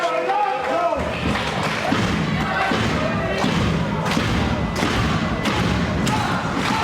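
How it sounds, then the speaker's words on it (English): A wrestler's shoulder block lands with a solid thud on the ring canvas at a live UPW pro wrestling match. The hit sits inside a steady roar of the crowd, with an excited commentator talking over the action. "Beautiful shoulder block."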